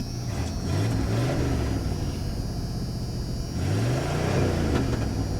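A 1985 Ford Bronco snow plow truck's engine runs and revs in rising and falling surges over a rough, slightly high idle, heard steadily and at moderate distance with no talk over it.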